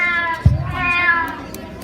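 Child performers imitate cats with a meow-like vocal call in a school end-of-year play, a single drawn-out mew rising over a brief low thump, heard fairly close on a stage.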